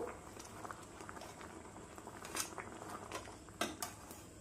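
Chicken pieces turned over in a hot cooking pan, a steady bubbling sizzle with a few light clinks and scrapes of a utensil against the pan, close and continuous.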